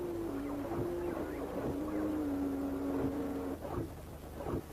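A swarm of robot dogs on the move gives off a steady mechanical drone with a sustained whining tone, broken by soft clicks and thumps that grow a little louder near the end.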